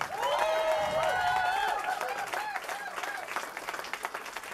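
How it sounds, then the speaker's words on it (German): Concert audience applauding a band member, loud clapping that starts under sustained musical tones and then thins into scattered, separate claps as the music dies away. "Einen herzlichen Applaus"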